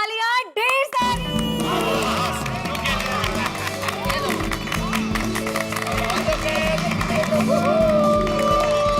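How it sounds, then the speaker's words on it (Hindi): A group of people claps together at a family gathering, with applause and cheering filling the room over background music after a short burst of voice at the start. "तो हो जाए इनके लिए तालियां ढेर सारी"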